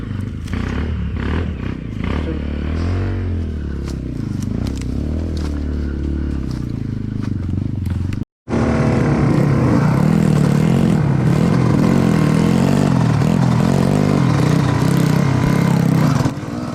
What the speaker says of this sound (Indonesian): Enaknya naik YZ250X itu kita bisa main RPM rendah kalau di jalan-jalan single track kayak gini.